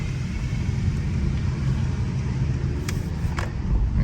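Honda Accord with its 192-horsepower engine in sport mode, a low steady rumble from inside the cabin while driving, even and continuous with a couple of faint high chirps toward the end.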